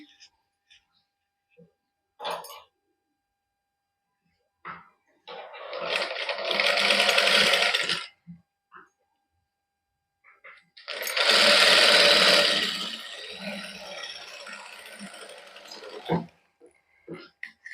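A sewing machine stitches the sleeve of a suit in two sustained runs, one a few seconds long and a later, louder one, with short bursts of speech and pauses between them.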